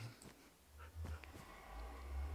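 A dog whimpering in the video game Minecraft, a few soft, brief whines and snorts, faint against a low background hum.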